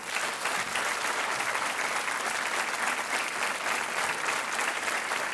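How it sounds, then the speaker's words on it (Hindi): A studio audience on a TV quiz show breaks into sustained, dense applause that holds at a steady level throughout, with no speech on top. "तालियां मच जाएं इनके लिए।"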